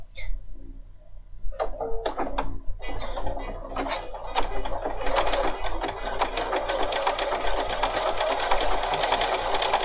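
A Bernina 500 series sewing machine stitches a seam allowance at the edge of the foot, starting with a few short clicks before settling into a fast, continuous, close-up mechanical whir that runs to the end.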